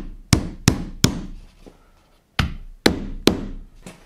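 Steel hammer knocking wooden pieces into a cabinet-making workshop jig: six sharp, loud blows in two groups of three, the last three more evenly spaced, each ringing briefly.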